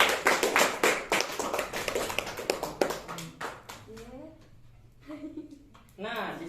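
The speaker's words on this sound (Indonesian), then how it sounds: "Tepuk tangan buat kalian." A group claps hands in a classroom-style setting, sharp dense claps filling the first half before fading, followed by a person talking.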